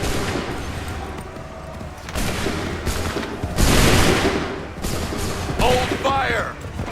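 Musket volleys from Assassin's Creed III erupt in loud rolling bursts, the heaviest near the middle, layered over battle noise while voices shout orders throughout.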